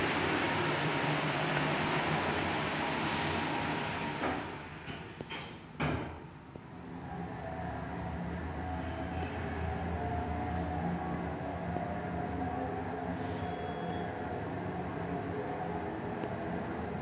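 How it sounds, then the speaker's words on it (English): A Babylon-bound train pulls into a platform at Grand Central Terminal: a broad, steady rumble inside an echoing station, with a few sharp clanks and a door-like thud near the middle, then a quieter rolling hum. "Babylon train is now arriving on track 303."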